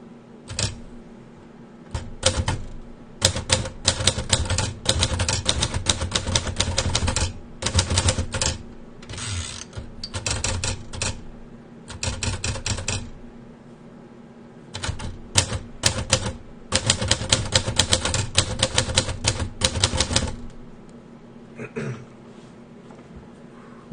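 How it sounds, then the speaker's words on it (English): A mechanical typewriter being typed on steadily for about twenty seconds, with bursts of rapid key strikes separated by short pauses, close and fairly loud, with no voices. "we shall get to typing"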